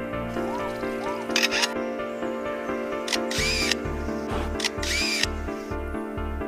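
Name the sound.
camera shutter taking a photo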